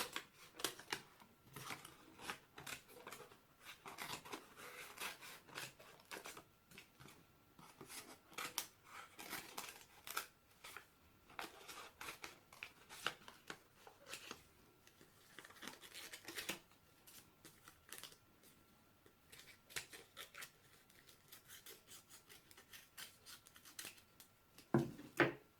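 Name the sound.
scissors cutting paper around a spectacles shape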